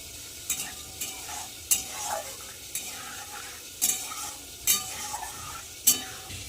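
Whole cumin, dried red chilli and bay leaf sizzle in hot oil for aloo dum, a soft crackle broken by about seven sharp spoon-on-pan clinks at irregular intervals.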